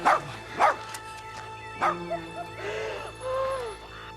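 A dog gives a few sharp yips and barks close by, then whimpers and whines in rising, drawn-out cries, with faint talk underneath.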